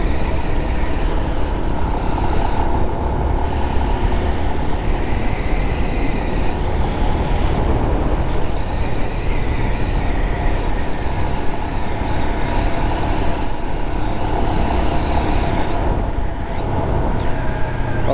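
A Royal Enfield Himalayan motorcycle rides through corners at around the speed limit, its loud, steady engine drone mixed with heavy wind rush, continuous and close throughout.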